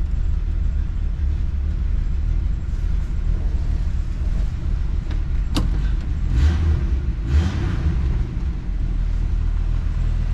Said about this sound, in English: See, she fires right up.